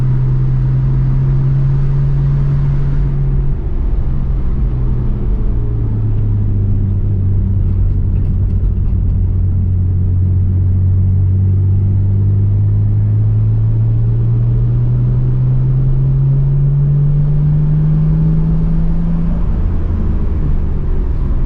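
A Nissan Skyline R34 GT-R engine idles steadily with a low droning hum that rises and falls slightly in pitch, close and continuous throughout.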